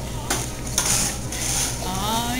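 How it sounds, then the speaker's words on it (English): A spoon stirs coffee in a cup at a coffeehouse, giving soft, steady clinking and swishing, with a couple of sharper taps against the cup's side over low background hum. "Hey, you know you're still stirring, right?"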